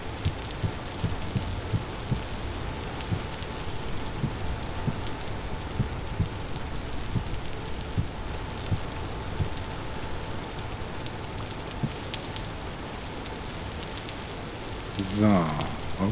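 Rain falls in the video game Vintage Story as a soft, steady hiss with faint patters that runs unbroken throughout, quiet and even, with a brief louder rustle near the end.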